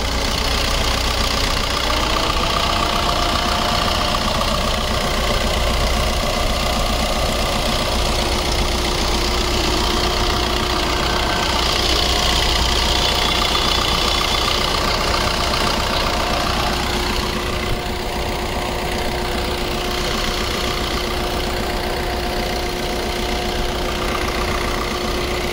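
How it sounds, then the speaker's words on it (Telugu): A 2018 Maruti Swift ZDi Plus diesel car with about 66,000 km idles steadily for a long stretch. The close, even, rattly diesel clatter hums on without pause or speech. "ఇంజన్ సౌండ్ వినిపించాను సార్"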